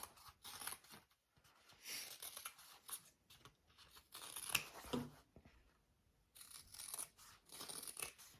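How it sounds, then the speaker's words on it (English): Scissors trim the fabric corners of a sewn handbag before it is turned right side out, making close, crisp snips in quick clustered bursts with short pauses between them and no talking. "I'm just going to trim up my, especially my corners here."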